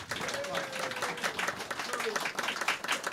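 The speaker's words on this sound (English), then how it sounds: "So, if we could please get an applause." Live audience at a FOSS Talk Live 2016 podcast recording claps steadily throughout, a dense, even wash of applause with some voices mixed in the crowd.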